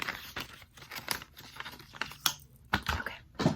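Paper packing material from an Apple Watch Series 6 box rustles and tears in several quick bursts, close up, with brief pauses between handfuls.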